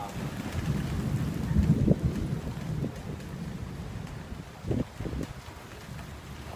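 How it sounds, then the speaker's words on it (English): Thunderstorm with rain during Florida's rainy season: a steady rain wash with low rumbles of thunder that swell twice, heard alone and at moderate loudness. "this is the storm"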